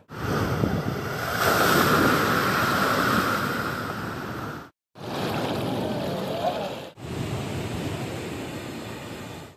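Rough sea waves at Cox's Bazar beach in stormy, rainy weather: broad roaring surf and heavy wind noise wash over the microphone in long continuous surges, broken by two brief dropouts, with no clear talking.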